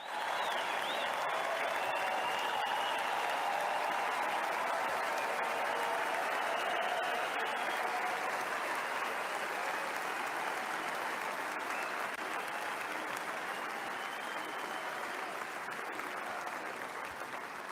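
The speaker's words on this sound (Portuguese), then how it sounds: "Você ouve o público aplaudir" Large crowd applauding steadily throughout at a Donald Trump speech after an assassination attempt, a dense, sustained wash of clapping with no talk over it.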